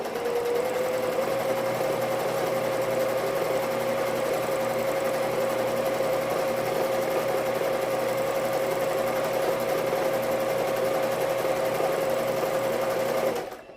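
A sewing machine stitching tulle for a ribbon trim tutu runs as a loud, steady, rapid whir close by for over thirteen seconds, then stops abruptly.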